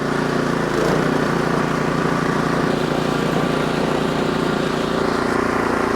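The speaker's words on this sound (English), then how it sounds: "Let's get the auger spinning." A running Ariens Deluxe 24 snowblower with its new Ariens AX engine and the auger engaged gives a loud, continuous mechanical roar that swells briefly near the start and then holds steady.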